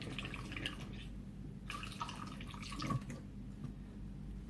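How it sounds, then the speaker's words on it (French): Filtered water trickles and drips into a homemade hand soap mixture for dry skin, soft, close liquid splashes in small irregular bursts over quiet room tone. "on va compléter avec le reste d'eau filtrée"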